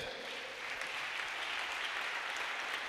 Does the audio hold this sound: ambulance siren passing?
no